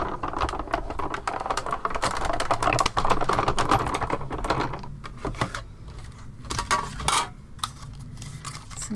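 An electronic papercraft cutting machine cuts paper, giving a dense run of rapid clicking and tapping with fluctuating loudness and brief quieter gaps, close and unaccompanied.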